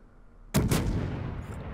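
Naval guns on a Jurien warship in the World of Warships game fire a sudden heavy salvo, a loud double boom that rolls into a long rumbling decay after a quiet start.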